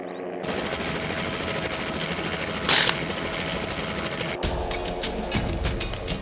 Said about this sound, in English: The helicopter hovers above the unconscious rhino and radios the ground crew to move in.